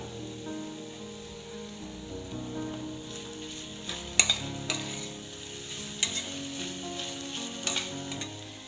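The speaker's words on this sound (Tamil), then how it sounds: "கருவேப்பிலை சேர்த்ததுக்கு அப்புறமா இது கூடவே 2 பச்சை மிளகாவை சேர்த்து கொடுக்கலாம்." Green chilies and curry leaves sizzle steadily in hot oil in a pan for an egg kurma, with a few sharper crackles and stirring clinks; no one speaks.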